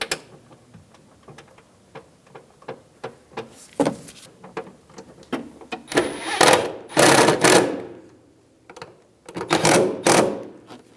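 Bolts being started by hand on a fuel pump driver module of a 2000–2007 Ford Focus, giving a run of sharp metallic ticks and clicks, sparse at first and then denser, louder ratcheting bursts, close by with no talk.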